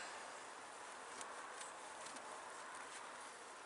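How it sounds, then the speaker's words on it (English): A dense, steady buzz of many bees swarming close by inside an opened hive box, continuous and fairly loud, with faint rustling underneath. "There are a lot of bees in here."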